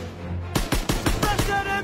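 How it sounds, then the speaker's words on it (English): Machine gun fire in the World War II shooter Call of Duty: WWII: a loud, close, rapid burst of about six heavy shots that starts abruptly after a brief quiet moment. "Lay down fire on that MG!"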